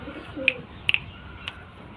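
Pigeons in a loft, a male behind a female, give a few short, soft calls close by over a low, quiet background, with a pair of quick calls near the middle and no talking.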